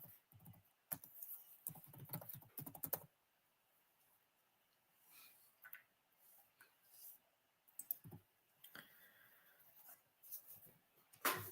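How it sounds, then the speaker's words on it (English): Bursts of quick keyboard clicking, close and fairly quiet, with pauses of near silence between rapid runs of keystrokes. "let me just type in Christ resurrection"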